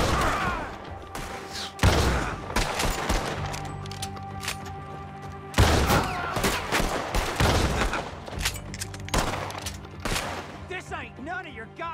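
Rapid volleys of gunfire from the video game Red Dead Redemption 2 crack out in loud clustered bursts, with thuds and brief pauses between them and voices speaking amid the shooting.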